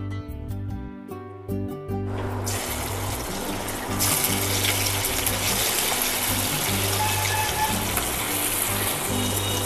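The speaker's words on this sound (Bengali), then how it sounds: "তেল আমার গরম হয়ে গেছে। এবার আমি চিংড়ি মাছটা দিয়ে দিলাম।" Prawns hit hot oil in a Bengali home kitchen, cooked for prawns with pumpkin leaves, with a loud, continuous hissing sizzle that swells after a few seconds and keeps going steadily, no talk.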